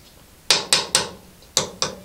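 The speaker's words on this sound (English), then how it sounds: "A few taps with a hammer while I twist it" A hammer taps a 5mm transfer punch on a lathe tailstock in the workshop: five sharp metallic clinks, three quick ones then a pause and two more, close and alone.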